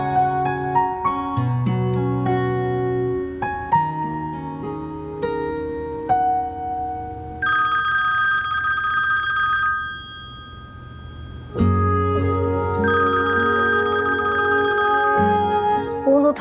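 A melodic phone ringtone plays continuously and loudly, its bright chiming tune repeating in phrases.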